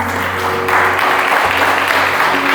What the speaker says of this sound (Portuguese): aquela linda salva de palmas para Jesus